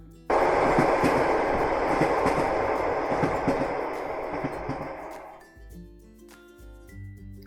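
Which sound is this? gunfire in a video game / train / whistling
train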